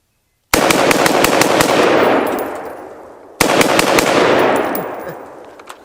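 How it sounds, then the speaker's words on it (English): Colt AR-15 rifle firing outdoors, loud sharp report of rapid shots in two bursts, each followed by a long ringing echo fading away. "And I've got to shoot the barrel. A couple of shots."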